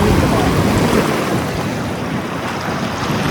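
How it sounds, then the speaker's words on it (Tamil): Rushing water roars loudly and continuously, a broad turbulent wash with wind buffeting the microphone close up. "தண்ணி ரொம்ப வேகமாக ஓடுது"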